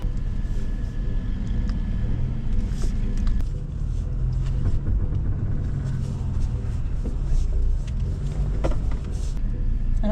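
A stock Toyota off-roading on the Hell's Revenge trail in Moab, climbing a rock ledge: a constant low engine rumble with some wind buffeting, close and loud, with no talk.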